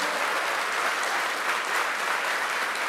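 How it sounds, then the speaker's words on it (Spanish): A congregation in church applauds loudly and steadily, a dense wash of clapping that holds at an even level from start to finish. "dale un fuerte aplauso al Señor"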